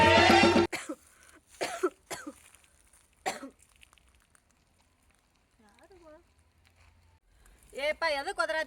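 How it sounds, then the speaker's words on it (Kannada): A person coughs in several short, harsh bursts at close range, with quiet gaps between them. A voice is heard speaking near the end. "ನನಗೆ ಕೆಮ್ಮು ಐತಿ"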